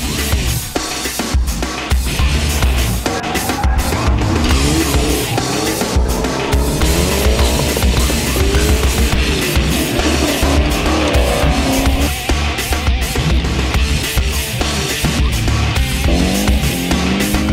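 Grassroots drift cars at an East Coast Bash event, a dense wall of engine roar with sliding tire squeal and skidding, loud and continuous throughout with no clear pauses.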